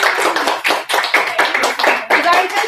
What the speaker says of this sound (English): And I want to give a very special round of applause for these lovely ladies.